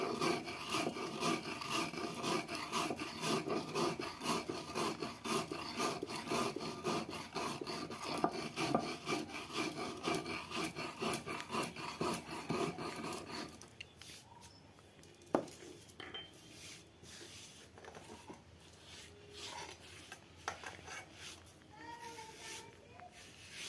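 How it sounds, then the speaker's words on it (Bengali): Sugar is ground by hand on a grinding stone, a fast rhythmic rasping scrape that runs steadily for about half the time, then stops, leaving faint scattered knocks and handling noises. "এবার চিনিটা আমি হালকা করে বেটে নেব।"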